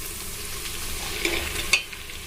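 Onions and green chillies frying in hot oil for mutton biryani, a steady close sizzle with two brief stirring clatters near the end and no voices.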